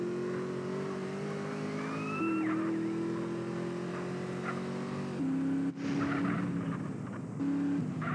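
A car engine in Grand Theft Auto San Andreas drones and revs steadily with shifting pitch, a wailing police siren rising over it briefly, all loud and continuous in game audio.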